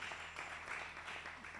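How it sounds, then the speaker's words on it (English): Steady applause from a seminar audience at a youth business event, a continuous wash of clapping heard at moderate distance with a low hum underneath. "A round of applause, please."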